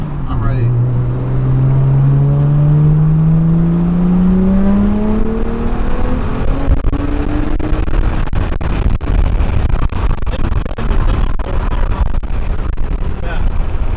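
Single-turbo BMW 335i pulling hard at full throttle, the engine note climbing steadily in pitch over several seconds, followed by road and wind roar with scattered clicks and bumps as it continues at speed.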